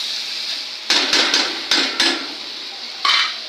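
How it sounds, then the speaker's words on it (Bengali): A metal plate set over a cooking pan of okra curry, several sharp clanks and knocks in an irregular sequence, close and fairly loud against quiet background. "এভাবে আমি থালা দিয়ে এখন ঢেকে নেব"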